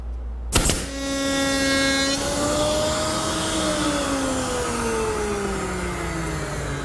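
A router fitted with a bit from a window sash making kit cuts the edge of a wooden molding piece, a sharp start giving way to a loud, steady, high whine that drifts slightly in pitch and runs unbroken throughout.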